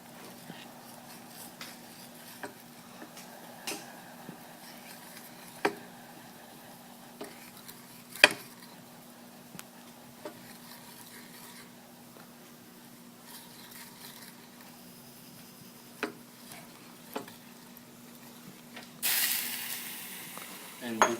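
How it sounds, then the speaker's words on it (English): A spoon stirs sugar into boiling water in a pot on a hot plate: faint bubbling hiss with sparse scattered clinks and scrapes, quiet overall, ending in a brief louder rush. "you want to slowly pour in the sugar and make sure to keep stirring as you do."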